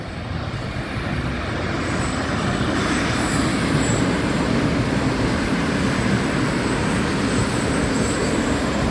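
Electric locomotive-hauled train (ED4M, EP2D and ES2G types) passing close by, a loud steady roar of wheels and rail noise that keeps going with no pauses and has no talking over it.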